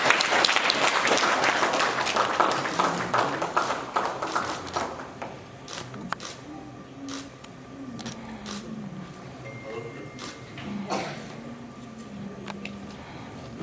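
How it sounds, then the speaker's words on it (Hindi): Audience applause at the Lal Ded National Award ceremony, dense and loud at first, then thinning into scattered claps that linger faintly under a hum. "जोरदार तालियां।"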